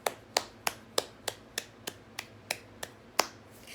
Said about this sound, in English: Can I get y'all a clap?